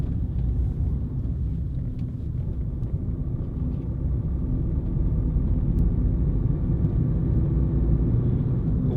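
A steady low diesel engine drone and road rumble from inside a moving Ford Fiesta 1.4 TDCI panel van on a road test, constant and fairly loud throughout.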